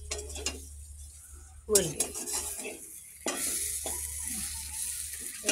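Garlic, onion and green chilli fry in hot oil in a pan, with a sizzle that swells as the ingredients go in, broken by scraping stirs and clinks of a spoon against the pot, and a brief spoken word.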